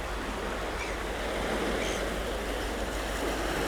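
Sea waves wash in steadily where a river meets the sea, a constant broad rushing surf with some wind, loud and unbroken throughout.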